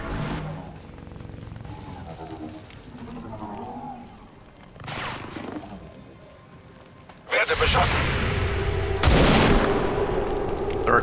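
Video game firefight with bursts of gunfire and heavy loud blasts, especially in the latter half, mixed with game sounds and talking throughout.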